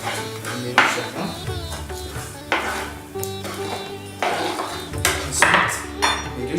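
Stirring turmeric and spices in a pan for lemon rice: repeated utensil scrapes and clinks against the pan in uneven strokes, close and fairly loud, with no talking.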